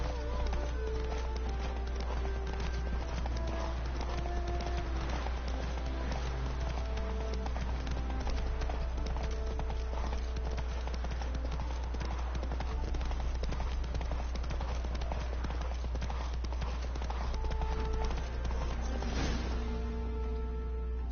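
Roach the horse galloping in The Witcher 3, its hooves clip-clopping in a steady rapid rhythm under a constant low hum and faint game sounds.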